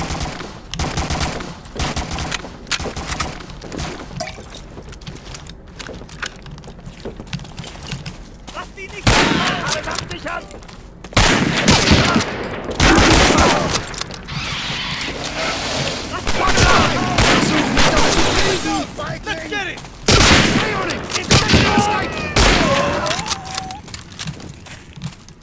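Gunfire in Medal of Honor: Spearhead comes in repeated loud bursts and single sharp shots, with clatter and rumbling battle noise between volleys and some talk mixed in.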